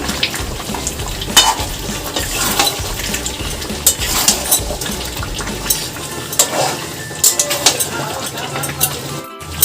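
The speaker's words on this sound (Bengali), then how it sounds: "এবার আমি এটাকে ভালো করে আবার কষিয়ে নেবো" Mutton and new potatoes sauté and sizzle steadily in a pan, with a spoon stirring and scraping against the metal in irregular bursts throughout; a voice talks faintly in the background.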